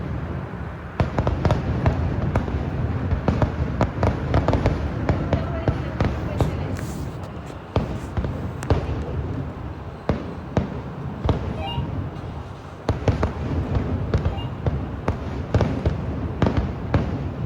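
Thrissur Pooram sample fireworks display: a long barrage of sharp crackling bursts and booms, dense and continuous with brief gaps, heard from a rooftop while people talk throughout.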